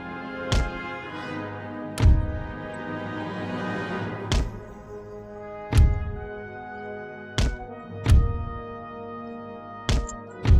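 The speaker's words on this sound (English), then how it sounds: "And the artillery." Artillery cannons fire in Total War: Empire, a Napoleonic-era battle with the Russian side, as about eight heavy booming blasts land every second or two with ringing decay over a constant battle din, no voices present.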